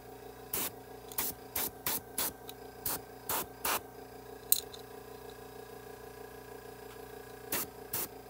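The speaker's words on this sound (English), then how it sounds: "just spray over them." An airbrush sprays acrylic paint onto a Bachmann On30 side dump railcar model during weathering. It gives about a dozen short, close hissing bursts in an irregular rhythm, with pauses between them.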